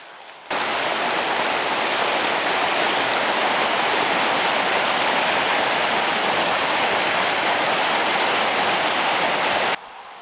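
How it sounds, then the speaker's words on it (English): High water rushes at a woodland stream crossing, a loud, steady roar of turbulent flow that starts abruptly and holds constant for about nine seconds before cutting off. "I'm at my last stream crossing. The water's really high"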